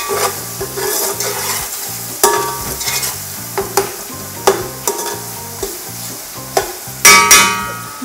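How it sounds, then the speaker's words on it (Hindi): Tomatoes are stirred and pressed with a spoon as they fry in a pot for chicken yakhni pulao, giving a crackling sizzle punctuated by loud metallic scrapes and knocks against the pot, close up with no voices. "अब टमाटरों को मैंने दबाना है।"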